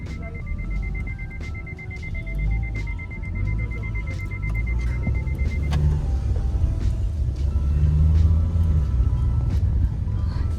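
Cars sit in a hill-road traffic jam near Shimla, with a continuous low engine rumble close by, a long steady beep tone through the first half, and scattered clicks and faint horns.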